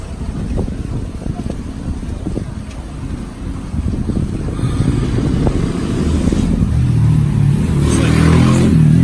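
A motor tricycle, a tuk-tuk-like vehicle, riding through Quezon City streets: a close engine putter with rushing wind and road noise that grows louder and rougher as it speeds up toward the end.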